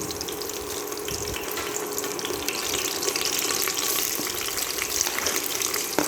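Onion fries in oil with mustard seeds, giving a dense, steady hiss and sputter that stays fairly loud and constant throughout, with no talking.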